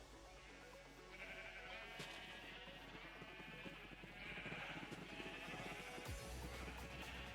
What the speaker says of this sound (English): a lot more sheep as well